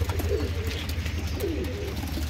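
Pigeons for sale coo nearby in soft, throaty warbling phrases over a steady low background hum.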